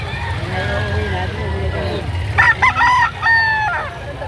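An eight-month-old gamecock stag crows once, a short strained call partway through, amid the background murmur and bustle of a chicken market in Lipa, Batangas.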